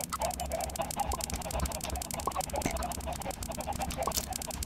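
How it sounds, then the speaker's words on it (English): Many Minecraft chickens cluck and squawk in a busy, overlapping chorus with sharp clicking sounds throughout, steady and moderately loud. "so let's make a lot more chickens"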